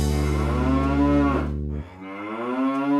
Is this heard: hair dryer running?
no